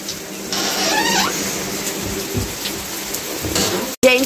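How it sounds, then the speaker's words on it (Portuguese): Heavy rain pouring down in a loud, continuous wash of drops on surfaces, with a faint brief sound partway through and an abrupt cut near the end. "tá chovendo, gente, bastante"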